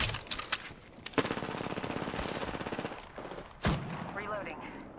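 Apex Legends gunfight with rapid automatic fire rattling in a steady run of quick shots, a few sharper single cracks punctuating it, moderately loud, while a voice talks over parts.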